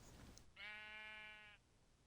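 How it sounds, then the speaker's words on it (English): A single, clear Minecraft sheep bleat, nasal and wavering, lasting about a second over a faint background hiss. "Oh, sheep."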